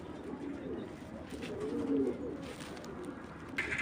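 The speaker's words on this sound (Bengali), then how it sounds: "এখানে দেখতে পাচ্ছেন এক জোড়া Maksi, light colour Maksi racer" A pair of light-coloured racer pigeons coo nearby in low, rolling murmurs that swell and fade over a soft outdoor background.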